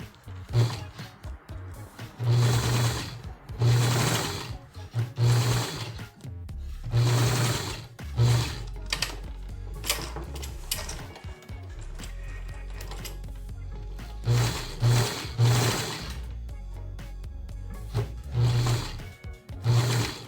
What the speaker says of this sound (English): So I'm gonna turn my machine all the way up, the longest stitch length it'll go, and just run